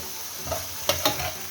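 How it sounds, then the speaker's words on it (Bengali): Onions sizzle in hot ghee as a tempering for a rohu fish-head muri ghonto, with soft steady frying hiss and a few sharp spatula stirs scraping the pan, close and fairly quiet. "পেঁয়াজটা বাগার দিব ঘি দিয়ে।"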